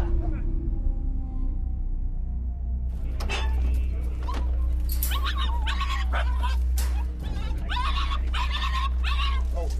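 Several terriers whimper and yip in excited bursts outdoors, close and fairly loud, over a steady low background hum.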